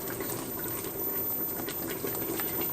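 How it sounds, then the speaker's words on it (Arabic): Soup seasoned with a garlic clove and a pinch of sugar boils steadily in a pot, giving a continuous, even bubbling hiss with no speech over it. "معايا الشوربه اهي بتغلي معايا"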